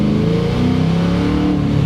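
A tuned 420-horsepower Lincoln Town Car engine revs steadily close by, its rising and falling harmonic drone continuous and loud, with no voices.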